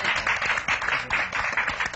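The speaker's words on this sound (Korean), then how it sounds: "박수 한번 주세요" Audience applause during a broadcast interview about the musical Miss Saigon: dense, steady clapping from a crowd that pulses slightly and carries on for a couple of seconds.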